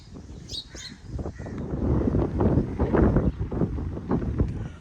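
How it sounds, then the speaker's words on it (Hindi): Cool wind blowing outdoors in a Pakistani village, a steady broadband rush that swells and gusts over the whole stretch, with a few faint bird chirps early on. "आज जो हवा चल रही है वो है भी ठंडी ठंडी।"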